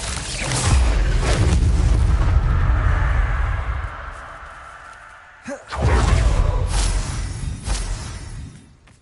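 Booming spell explosions from the Confringo curse in Hogwarts Legacy, a heavy rumbling blast that decays, a sharp pop, then a second loud burst rolling on, with no voices.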